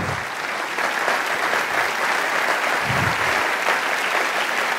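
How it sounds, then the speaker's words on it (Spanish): A church congregation applauds loudly in welcome of pastor Eduardo Sosa, a dense, even roar of clapping that fills the space throughout, with a couple of low thumps beneath. "ponete de pie que te queremos saludar con un aplauso grandioso"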